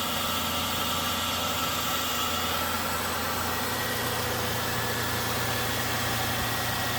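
A 2002 Toyota Tacoma SR5 TRD Off Road Double Cab's V6 with a K&N cold air intake idles smoothly, a steady even hum held for several seconds, close and unbroken with no talk.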